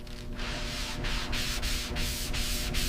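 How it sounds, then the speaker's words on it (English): Steady back-and-forth sanding of body filler on a Buick Skylark, a rough abrasive rasp with regular strokes about every third of a second, close and continuous. "The filler bridges the gap. Hours of sanding."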